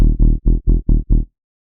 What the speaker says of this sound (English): Then I have some chorus.